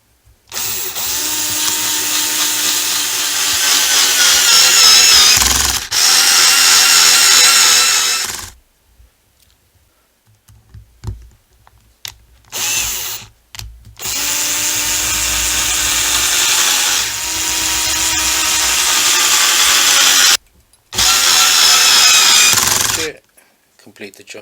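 Power drill driving screws into parts of a Losi 5ive T RC car kit, several loud sustained whining bursts separated by pauses, with faint clicks in the gaps.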